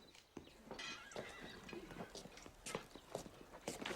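Horse whinnying alongside hoof clops on ground, a few sharp neighs and steady clip-clop at moderate distance, with a busy scene behind.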